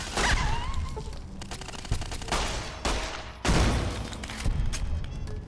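Shots are fired at a turret in Fallout New Vegas: loud bursts of gunfire come in repeated volleys with short gaps between them, close and forceful, with no talking.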